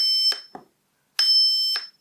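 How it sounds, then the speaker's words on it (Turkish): Two piercing electronic beeps from an active buzzer in a simple circuit, the second longer and steady, each with a click as it starts and stops, separated by a brief silence. "Hiçbir devreye ihtiyaç duymadan kendi biplemesini kendisi yaratabilir."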